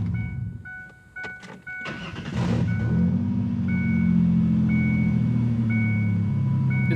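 A 2001 Ford Ranger pickup truck cranks briefly and fires up, then settles into a loud, steady idle that runs close to the microphone for several seconds.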